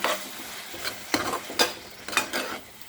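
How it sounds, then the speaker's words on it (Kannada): Ridge gourd with ground paste is stirred in a hot pan for a bhaat, a soft sizzle punctuated by about five sharp spatula scrapes and knocks against the metal, close by and without speech. "ಇದಕ್ಕೆ ರುಬ್ಬಿದ್ನಲ್ಲ ಅದನ್ನು ಪೇಸ್ಟ್ ಹಾಕ್ತಾಯಿದ್ದೀನಿ. ಹಾಕ್ಬಿಟ್ಟು ಇದನ್ನು ಚೆನ್ನಾಗಿ ಎಲ್ಲ ಬಾಡಿಸ್ಕೊತೀನಿ."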